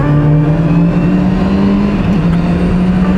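A Honda CB650R motorcycle engine with stock exhaust rumbles and revs close by, its deep throaty drone rising and dipping slightly over a few seconds.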